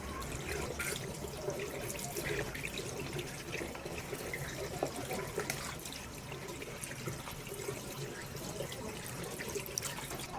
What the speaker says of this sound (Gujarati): તો પાણી ચાલુ કરી દીધું છે આપણે.